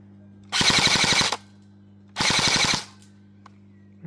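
Airsoft M4 RIS CQB rifle firing two loud, close full-auto bursts of rapid evenly spaced shots, each lasting under a second, separated by a short pause over a steady low hum.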